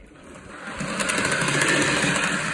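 A Rivarossi HO scale GG1 electric model locomotive running on track, a continuous buzzing motor whir with rattling wheel noise that grows louder over a couple of seconds and then holds steady.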